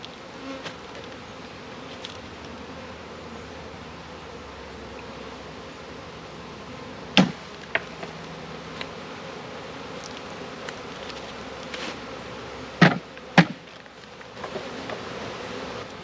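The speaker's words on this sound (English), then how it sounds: "See all these bees here?" Dense, continuous buzzing of a large swarm of bees up close, with occasional sharp clicks and knocks rising above the hum.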